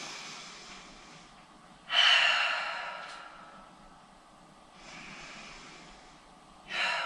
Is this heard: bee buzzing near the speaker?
no